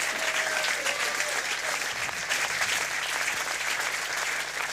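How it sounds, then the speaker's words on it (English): A darts crowd at the Storm Lucky Larsen Masters 2025 final breaks into sustained, dense applause, loud and even throughout, with faint crowd murmur underneath. "a round of applause for everybody who's in this building making this such a fantastic event"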